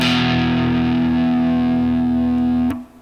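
Distorted electric guitar holds a single palm-muted power chord for nearly three seconds, loud and steady, then cuts off abruptly with a short decay.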